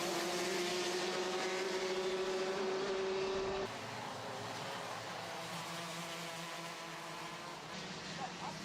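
Racing karts buzzing around a track during a championship round, a high engine whine passing near then fading into a broader distant drone, under commentary throughout.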